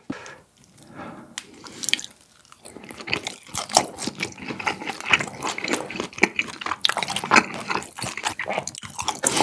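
Chewy charcoal-grilled beef is chewed close to the microphone, with dense, continuous wet crunching and squishing bites throughout and no talking.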